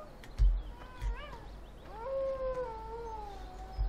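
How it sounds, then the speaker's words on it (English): Wolves or coyotes howl in Farming Simulator 17, several rising and falling wavering calls overlapping at middle distance, with a few low thumps underneath and no speech. "I can hear wolves howling."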